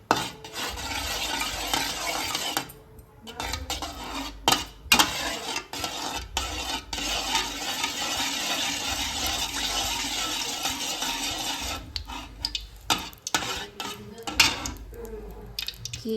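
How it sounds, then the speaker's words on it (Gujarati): Spoon clinking and scraping in a pan as ghee is stirred over heat until it melts, steady metallic scraping and clatter with a few brief pauses, close and moderately loud. "ઘી ગરમ થાય ત્યાં સુધી આપણે ઘીને હલાવશું."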